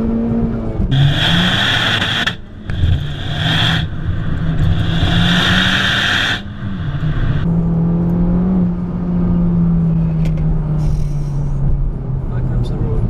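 Honda Civic Type R FK2 (2016), a 300-horsepower hot hatch, accelerating hard with the engine note climbing through the revs, loud and close from inside the cabin, while people talk over it.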